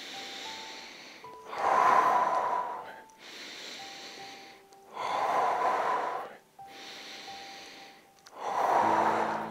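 Three long, forceful exhalations during a Pilates exercise, each a breathy rush separated by quieter pauses, close and clear with no talk.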